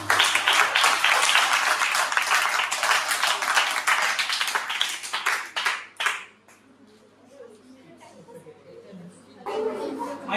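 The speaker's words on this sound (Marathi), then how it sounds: "टाळ्या वाजवा." An audience at a college 3D printing workshop event claps loudly and steadily for several seconds, then the applause fades out into quiet murmuring before voices pick up again.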